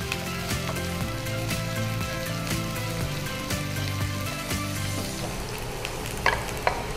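Curry leaves fry in hot oil as a tempering for egg masala, giving a steady close sizzle and crackle with light stirring scrapes. A couple of sharper pops stand out near the end.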